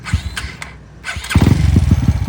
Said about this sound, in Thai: มาฟังเสียงกันไป รถสตาร์ทมือ